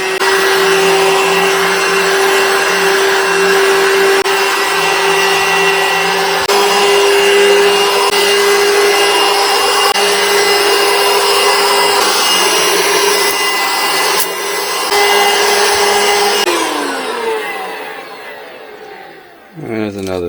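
A small rechargeable handheld vacuum with a motorized brush cleans cat hair from an entryway rug, whining steadily at high pitch for a long stretch, loud and close, its tone dipping briefly before it shuts off at the end.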